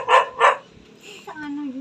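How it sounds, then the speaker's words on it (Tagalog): A dog barks twice in quick, loud succession close by inside a house, followed by a softer whimpering yip as a voice speaks briefly. "Ang ingay naman itong aso na ito."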